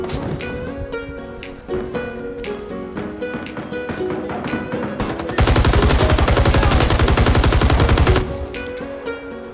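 An M60 machine gun in the Vietnam War shooter Rising Storm 2 Vietnam fires one loud, continuous burst of nearly three seconds, after a stretch of lighter in-game noise and scattered shots.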